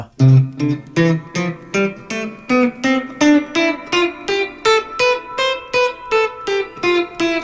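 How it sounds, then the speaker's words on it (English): A plucked guitar scale played in short, choppy detached notes, climbing steadily upward with clear gaps between each note, close and alone. "I can play staccato, which is a very kind of choppy feel."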